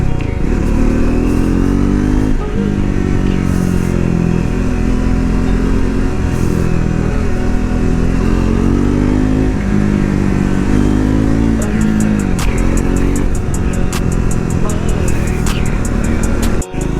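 A Triumph motorcycle engine runs steadily and loudly throughout a ride near Siltanki, Nuwakot, with a dense, continuous drone and small shifts in pitch as the rider throttles.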